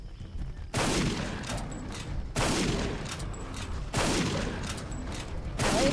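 Rifle fired with special ammo in Cabela's Dangerous Hunts 2013, three loud booming shots at steady intervals, each with a long rolling decay, heard alone without voices.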